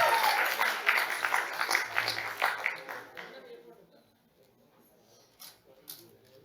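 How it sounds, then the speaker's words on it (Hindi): An audience applauds in an auditorium at a youth parliament event. The clapping is dense and steady for about three seconds, then thins and fades out, leaving scattered faint sounds. "आप सभी तालियां बजाते रहें"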